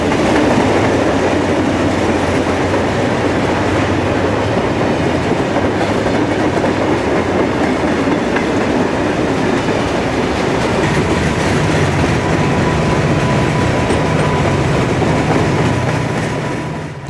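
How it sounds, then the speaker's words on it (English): A long Conrail general merchandise freight train led by a pair of GE wide-cab diesel locomotives rolls steadily past nearby, a continuous rumble of wheels and engines with faint rhythmic clatter, no voices. "a pair of GE wide cabs roll through with a general merchandise freight."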